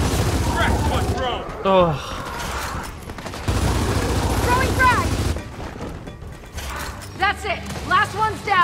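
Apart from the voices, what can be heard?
gunfire in the video game Gears of War 4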